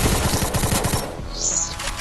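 Rapid automatic gunfire in a shooter video game, a tight burst of repeated shots in the first second followed by a few scattered single reports, with game ambience continuing behind and no speech.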